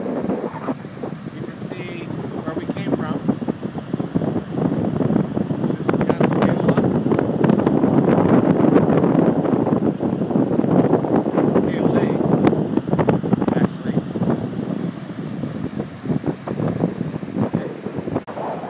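Steady breeze buffeting the microphone outdoors near a Chilean town ringed by mountains, a continuous loud rushing with gusty swells throughout.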